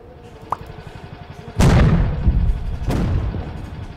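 Tank cannon blasts from the Henry Stickmin game: a heavy boom with a long rumbling tail, then a second booming shot a moment later, both loud over a low hum of game sound.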